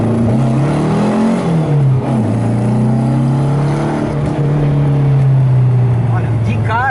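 A VW Beetle (Fusca) engine pulls away from launch, a loud, close, continuous droning note that rises and then holds steady as it revs, with a voice talking over it.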